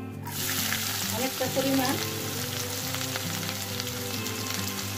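Cardamom and cinnamon, with bay leaf, frying in hot oil in a pan for a chicken potato curry, a bright close sizzle that holds steady while someone speaks briefly over it.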